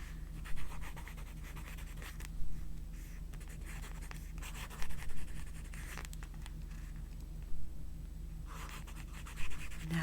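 A pen writes on paper in a quiet room, steady soft scratching broken by a few louder taps and strokes at intervals, close and unaccompanied by talk.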